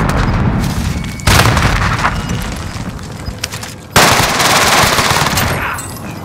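Dense sustained automatic gunfire roars in Call of Duty Modern Warfare, broken by two heavy booming blasts from a frag grenade, loud and close throughout.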